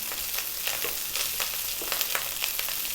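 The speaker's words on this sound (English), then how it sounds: "So very important that you actually fry the rice" Rice frying in a pan for an Indian vegetarian dish gives a steady, close sizzle with bursts of crackle and soft stirring scrapes throughout, no voices.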